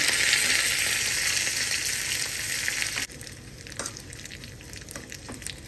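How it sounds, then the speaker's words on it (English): Curry leaves and red chilies sizzling in hot oil for a pumpkin and ash gourd gravy, a loud steady crackling hiss that drops sharply halfway through into quieter spitting with scattered pops. "Add curry leaves and red chili."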